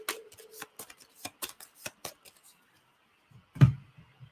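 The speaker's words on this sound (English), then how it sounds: "I'm just going to shuffle for the first time" Cards being shuffled during a tabletop board game session, a series of short crisp riffling bursts in the first half and one louder thump near the end, close up with no talk over them.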